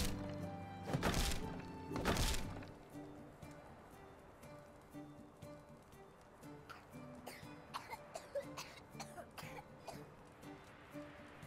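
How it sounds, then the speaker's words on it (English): Villagers in the medieval survival game Medieval Dynasty cough, with two loud, harsh coughs close together, followed by softer scattered thuds and clicks of game activity. "Everywhere I go, they're just coughing all over the place."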